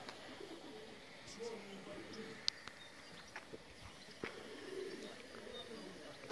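Pigeons cooing softly near a dovecote on a summer day, faint repeated coos and occasional wing or hoof-like clicks in an open-air setting, with quiet talk at times.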